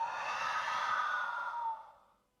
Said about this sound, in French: Et on expire par la bouche.